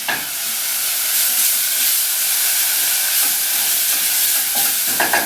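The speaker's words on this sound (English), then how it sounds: "Now the marinade that you saved is going into the saucepan. Leave the marinade to cook for about a minute." Saved chicken satay marinade cooks in a hot saucepan, giving a loud, steady, close-up hiss and sizzle with faint bubbling crackles throughout.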